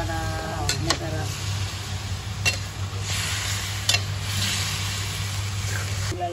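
Pork belly adobo being stirred in a cooking pan, soft scraping and sizzling over a low steady hum, with a few light clinks of the utensil against the pan.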